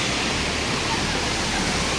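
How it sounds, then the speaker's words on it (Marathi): Dodhani waterfall near Panvel in monsoon pours water from above in a steady, loud, broadband roar that fills the whole clip without a break. "एकदम हवा आणि वरून पडणारं पाणी"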